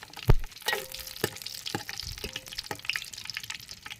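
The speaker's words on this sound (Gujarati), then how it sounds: "આમાં પાપડ તળવા છે" Papad frying in hot oil in a pot at an outdoor farm gathering: crackling, popping sizzle with sharp bursts and steady bubbling, close and fairly clear, with no talk.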